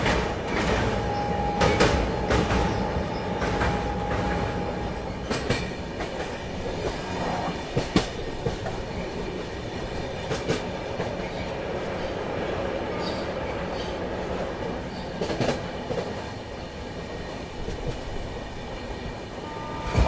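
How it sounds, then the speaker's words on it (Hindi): A passenger train rolls through Nellore railway station, a continuous rattle of carriages with clanking wheel-on-rail knocks and a brief squeal near the start, heard close from aboard with no voices. "अभी हम लोगों की ट्रेन स्किप करने जा रही है नेल्लौर रेलवे स्टेशन"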